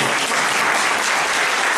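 Dense, loud applause from a crowd at an Italian religious gathering, continuous and even throughout.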